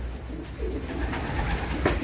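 Racing pigeons cooing softly during a night loading before a race, low muffled coos repeating over a steady background hum, with no talking.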